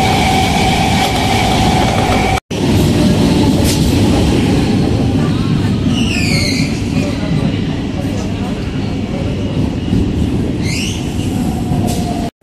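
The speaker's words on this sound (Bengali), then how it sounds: "কৃষ্ণনগর লোকালে উঠে পড়লাম, এখন বাড়ির দিকে নামবো।" A Krishnanagar suburban local train rolls along, heard loudly from on board as a constant, dense rumble with occasional high wheel squeals and brief dropouts.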